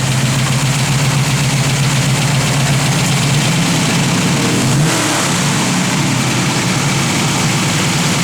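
A 1971 Chevrolet Camaro RS with a solid lifter camshaft idles loudly and close by, a steady low rumbling burble with a slightly lumpy rhythm and no voices over it.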